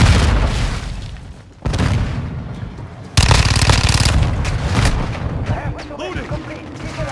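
Call of Duty Modern Warfare 2 multiplayer Domination match: loud booming grenade blasts and rapid machine-gun fire fill the scene, with shouted combat radio callouts over the continuous barrage.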